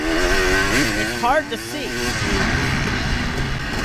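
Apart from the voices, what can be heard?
off-road racing motorcycle engine revving in woods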